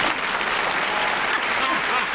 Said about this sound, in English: a little polite applause